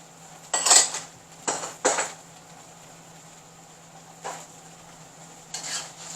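Seafood and vegetables stir-fried in a pan, with sharp clanks of a utensil against metal in a few quick clusters over a quiet steady sizzle, then softer scrapes later.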